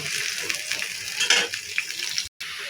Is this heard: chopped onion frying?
yes